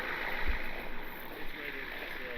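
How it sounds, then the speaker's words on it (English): Creek water flowing into Wickiup Reservoir over a small waterfall-like drop, a steady low rushing wash heard outdoors with some wind buffeting the microphone. "Here's where the creek flows into Wickiup Reservoir over here."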